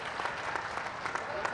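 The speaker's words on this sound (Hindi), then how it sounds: "एक बार आप अपने लिए जोरदार तालियां बजाइए" Audience applause at the Jalore Mahotsav poetry festival in Rajasthan, a brief, fairly faint, dense burst of clapping with voices audible underneath.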